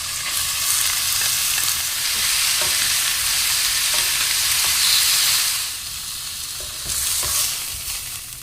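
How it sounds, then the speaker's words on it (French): Pieces of pork browning in oil in a sauté pan over high heat give a loud, steady sizzle, with occasional stirring scrapes and a brief dip in intensity near the end. "je mets la viande et je vais la faire dorer sur toutes les faces. Je suis sur un feu fort."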